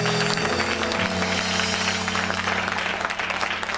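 A church congregation applauds in praise of the Lord, with steady, dense clapping filling the whole stretch beneath a sustained musical drone.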